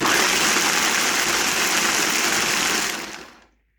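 Blender pulsing soaked koki beans in water, a loud steady whirring grind lasting about three seconds before cutting off and winding down into silence.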